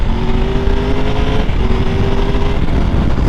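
A Triumph Tiger 1200 motorcycle engine drones loudly at close range, its steady tone breaking briefly mid-run as a quick-shifted gear change cuts in before the pitch resumes.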